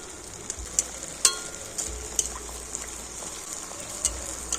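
Coconut fritters frying in hot oil while oil is spooned over them: a continuous bubbling sizzle with scattered sharp crackles and spatters, fairly close, no speech.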